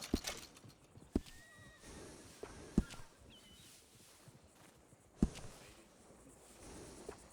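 A horse in Red Dead Redemption 2 gives a soft whinny amid a few sparse, sharp hoof clops on the ground, quiet overall against a hushed outdoor background.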